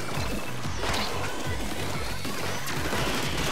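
Firework balls (Hanabidama) thrown during a Splatoon 3 festival match, bursting in a dense, continuous clatter of splashy crashes and pops with no clear gaps, loud and close over a busy game backdrop.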